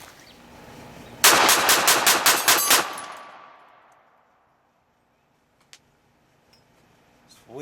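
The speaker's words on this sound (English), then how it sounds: "What a sweet shooting pistol." Rapid string of about eight loud Makarov 9x18 pistol shots fired outdoors, each crack ringing into a long fading echo, followed by near silence and a faint click.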